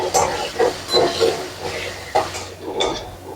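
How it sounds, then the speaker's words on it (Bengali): Potatoes with salt and turmeric frying in a pan, a hissing sizzle broken by several sharp bursts and clatters of stirring, close and fairly loud. "আলুটাকে একটু ভেজে নেব।"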